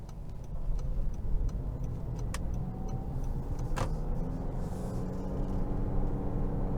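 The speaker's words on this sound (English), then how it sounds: "You do hear the engine just a tad as it tries to drive as much power as it needs to supply the energy for that electric motor" A 2023 Honda CR-V Hybrid driving, its engine a faint low hum beneath steady road and tire noise inside the cabin, with a few light ticks and clicks scattered through.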